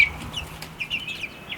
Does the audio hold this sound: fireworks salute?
no